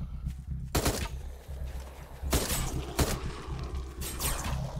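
Gunfire in a zombie survival video game cracks out in loud single shots and short bursts, spaced irregularly, with a low rumbling ambience between them.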